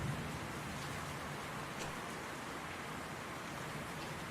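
Steady rain spattering on pavement in a seaside town in the Anchorhead game, a dense, even hiss holding at a constant level with no talk over it.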